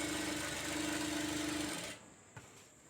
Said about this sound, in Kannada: ಇಲ್ಲೂ ಅಷ್ಟೇ ಅರ್ಧ ಇಂಚ್ ಗ್ಯಾಪಲ್ಲಿ ಹೊಲಿಗೆಯನ್ನು ಹಾಕ್ಕೊತೀನಿ